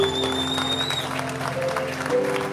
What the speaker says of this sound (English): We can clap our hands for our servicemen and women in here today.